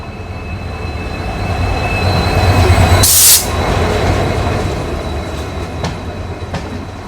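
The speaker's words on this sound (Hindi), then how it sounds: "अभी अपनी ट्रेन निकली है जस्ट गुवाहाटी रेलवे स्टेशन से" A train pulling out of Guwahati railway station, heard from on board as a loud steady rumble with rhythmic clickety-clack of wheels over rail joints and a brief sharp hiss midway.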